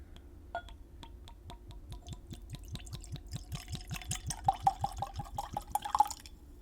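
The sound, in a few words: whiskey being poured into a glass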